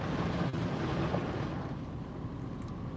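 A rinse cycle on a D&S IQ 2.0 automatic car wash, with a broad, steady rush of spraying water from close by, easing slightly toward the end.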